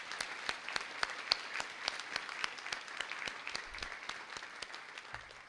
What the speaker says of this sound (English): would you please give the faculty, advisors, and staff of the Judy Genshaft Honors College a round of applause